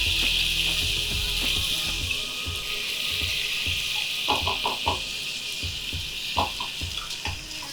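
Ginger and garlic paste sizzling in hot oil and butter, a steady bright crackling hiss with scattered pops and light clinks of stirring, no voices.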